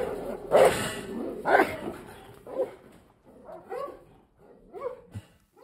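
A trained dog bares its teeth and barks on command, giving several sharp, loud barks spaced about a second apart, followed by softer whimpers and yips.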